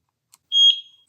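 A EufyCam C37 2K outdoor security camera gives a single short, high electronic beep when switched on, clear and close after a brief faint click, with no talk.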